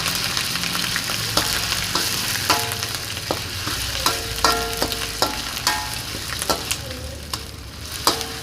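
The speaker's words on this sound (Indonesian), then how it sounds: "bumbu sudah halus, siap untuk melakukan penumisan" Steady sizzling of ground spice paste frying in hot coconut oil, with a spoon scraping and clinking against the pan at irregular intervals, close up.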